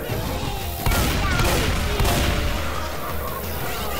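Rapid, dense gunfire from the zombie shooter Left 4 Dead 2 fills the moment, with loud overlapping shots and sharp bursts cracking across a constant chaotic din, close and continuous throughout.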